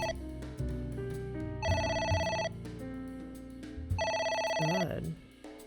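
A phone in AI: The Somnium Files rings in repeated electronic bursts over a low game music bed, loud and close, with a brief voice near the end.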